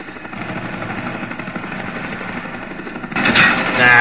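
A Cobra attack helicopter arrives in a video game as a steady, dense rotor-and-engine roar that swells louder near the end.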